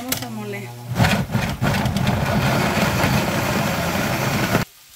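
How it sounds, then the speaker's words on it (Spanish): A kitchen blender grinds cooked jalapeños, tomatillo, garlic, salt and a little water, starting after a brief moment of talk and roaring steadily at close range for a few seconds before stopping abruptly. "ahora lo vamos a llevar a la licuadora para molerlo"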